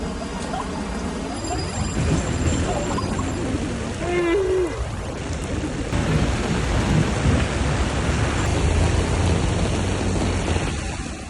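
A storm with heavy rain and thunder in Perm, a dense continuous roar of downpour with deep rumbling thunder running beneath it, loud and steady throughout, with a brief tonal whine partway through.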